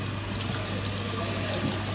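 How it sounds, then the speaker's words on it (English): Water rushes steadily from an opened valve in a jet impact laboratory rig, a loud, continuous broadband hiss and splash that holds constant throughout. "Control the flow of water by opening the valves anti-clockwise"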